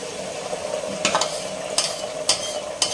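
Omelette egg mixture sizzles steadily in a pan, with a few sharp utensil scrapes or clinks breaking through at intervals.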